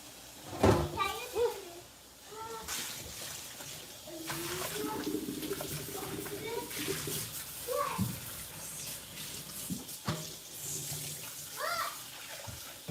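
Kitchen tap water runs steadily during rinsing up after cooking, a continuous hiss with intermittent splashes, while children talk and chatter nearby over it.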